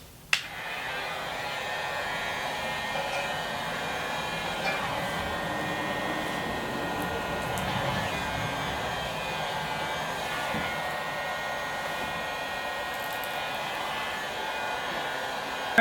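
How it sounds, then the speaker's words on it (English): Heat gun blowing hot air onto a large vinyl decal during installation, a steady whooshing fan drone that runs unbroken for many seconds at moderate loudness. "use my heat gun, heat that up just a little bit, and then let it form into place"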